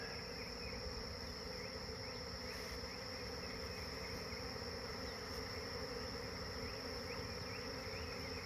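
Honey bees buzz steadily at an open hive box, a dense continuous drone close by that holds level throughout with no voices.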